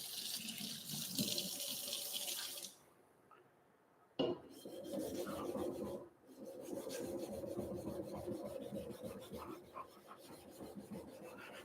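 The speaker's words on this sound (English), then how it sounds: "you can see how well this stone cuts at 400 grit" A blade is stroked across a 400 grit diamond sharpening stone in repeated rasping passes, close and fairly quiet, broken by two short pauses.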